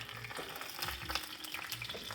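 Cauliflower wings coated in garlic powder, curry and paprika fry in grapeseed oil in a cast iron skillet, giving a steady close crackling sizzle with small pops throughout.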